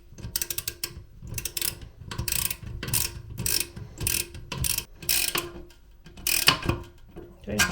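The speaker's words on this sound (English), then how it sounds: "I'm going to use a socket just to make it a little bit faster." A socket ratchet clicks in repeated bursts while tightening the bolts on a toilet during a running-toilet repair, with close, loud, rhythmic pawl chatter separated by brief pauses.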